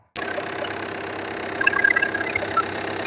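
A 2012 Tata Vista car engine starts abruptly and settles into a steady, close idle with an even mechanical hum and faint ticking, with no talking.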